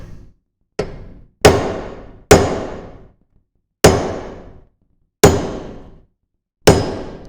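A hammer strikes a curved guitar fret into the fretboard, seven sharp, separate taps spaced unevenly with short ringing decays and silence between them.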